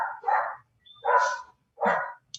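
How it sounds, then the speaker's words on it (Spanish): A dog barks three times, close and loud, with short quiet gaps between the sharp barks. "qué perro tan cansón"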